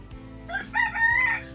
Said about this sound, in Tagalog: Andun, may manok pa.